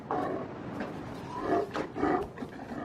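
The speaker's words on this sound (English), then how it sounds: "Bulls congregate where females or cows are gathered and battle to keep their territories." New Zealand fur seal bulls battling for territory where cows are gathered, giving loud, close, rough roaring growls in several bursts.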